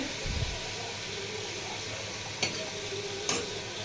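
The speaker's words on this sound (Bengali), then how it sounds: "এদিকে তো তোমরা দেখেছো আলু ভাজা চলছে" Steady oily sizzle of potatoes frying in a pan, with a couple of brief stirring scrapes and clicks.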